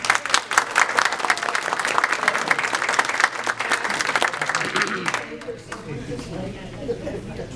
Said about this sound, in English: Give her a round of applause here.